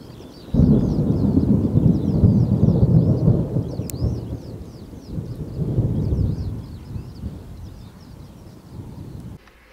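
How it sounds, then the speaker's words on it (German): Thunder from a thunderstorm just east of Hildesheim, a long low rumble rolling in loudly and swelling again midway before fading, with faint bird chirps above and no talking. "Ringsherum sind immer noch viele Gewitter unterwegs."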